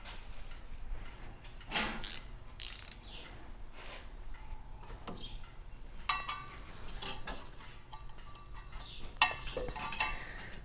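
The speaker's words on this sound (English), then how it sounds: "Let's see if we can get a wrench in." A wrench working around the fan of an Austin-Healey 3000 engine: scattered metallic clinks, ratchet clicks and scrapes at close range, irregular and intermittent with quiet gaps.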